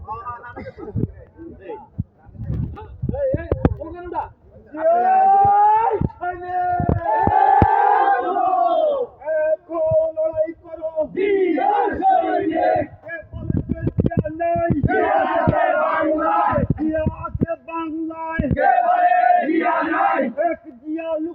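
A crowd chants slogans in Bengali at a political gathering in Bangladesh, a lead voice calling and many voices answering in loud rhythmic bursts, with short pauses between chants.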